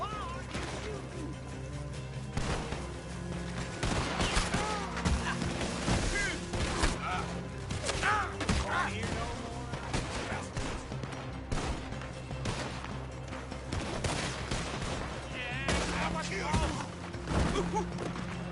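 Gunfire fills a shootout in the video game Red Dead Redemption on PS5, with scattered shots, thuds and crashes layered over busy game audio while voices talk throughout.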